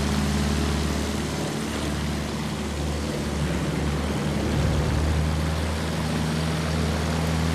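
A Battlefield 1 warplane drones past in a steady, loud propeller-engine roar that holds for several seconds with a broad rushing wash and no voices.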